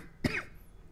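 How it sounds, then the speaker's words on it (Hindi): A single short, sharp cough, close and clear, followed by quiet room tone. "आज मुझे खांसी आ रही है थोड़ी सी"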